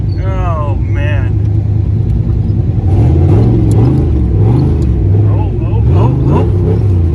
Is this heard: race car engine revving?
yes